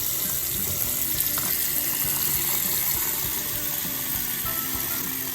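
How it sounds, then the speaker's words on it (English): Cold water runs steadily from a tap over a plastic doll, a close, continuous splashing hiss filling the whole stretch without speech. "I'm going to put her under cold water and see if that reverses the color change."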